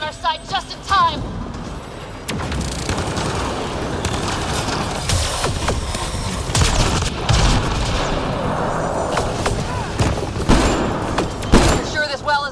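An allied turret firing in the sci-fi game Mass Effect Andromeda, dense bursts of gunfire and booming impacts continuing throughout, with voices speaking over the battle.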